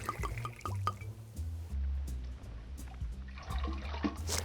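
Cocktail liquor, a 1.5-ounce measure, pours straight into a small goblet, giving close liquid splashing and dribbling that swells and fades over a few seconds, with light clinks near the end.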